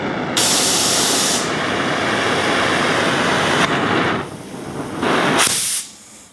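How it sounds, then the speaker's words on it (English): A cutting torch hisses loudly as it cuts steel for a ranch-style entry way, a continuous roaring spray of gas that briefly dips near the end before trailing off. "We'll go ahead and get the torch rolled out and we'll start cutting this."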